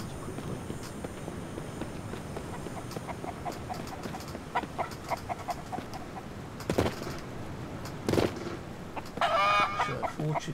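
Chickens in a coop in the survival game Mist Survival cluck softly and intermittently over a steady ambient background, with a few louder squawks near the end.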